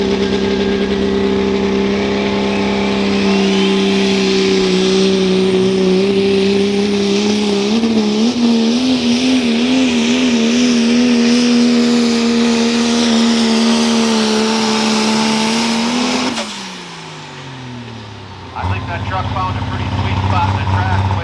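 A 1994 Dodge pickup competing at a truck pull, its engine roaring loud and sustained with rising and wavering revs, then cutting off abruptly before a lower idle returns, with an announcer's voice over it.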